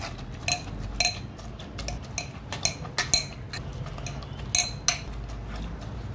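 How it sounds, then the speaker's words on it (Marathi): Cooked wheat is mashed with a masher in a pot for kheer, giving quiet, irregular metallic clinks and taps over soft background noise. "या स्मॅशरने थोडंसं स्मॅश करून घेऊया"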